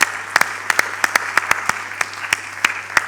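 Brief rhythmic bursts of clapping from an audience honoring postgraduate graduates at a winter graduation ceremony, sharp claps spaced steadily across the moment with a low steady hum beneath.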